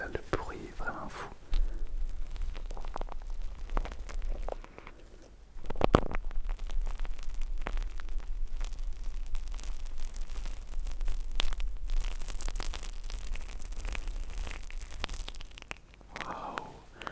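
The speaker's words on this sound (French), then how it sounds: "on a vraiment un crépitement de mousse très intense" Glue-tube foam crackles right against a microphone for ASMR, a dense, close, continuous fizzing and crinkling texture with a brief stronger burst partway through and no talking.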